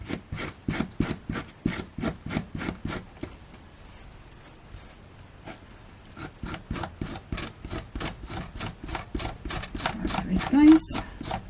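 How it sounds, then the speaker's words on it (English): A glue eraser rubbed back and forth over dried glue on a papercraft card makes a steady, rhythmic rasping scrape, close and fairly loud, pausing briefly in the middle before resuming, with a voice talking over parts of it. "So just give that a little rub, and I have got this glue eraser as well."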